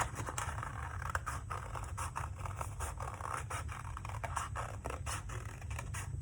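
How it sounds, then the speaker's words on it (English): Scissors snip through paper while a sugar skull shape is cut out for a Mexican folk art collage, giving steady close crisp scraping cuts with no talk. "Then take your scissors and cut on"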